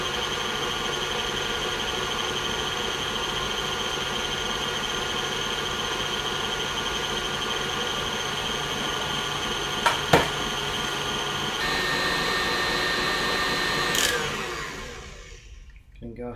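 An electric mixer whirs steadily as it whips vegan Swiss meringue buttercream in a bowl. The drone stays constant, then shifts pitch as the speed rises, and a couple of sharp knocks land partway through.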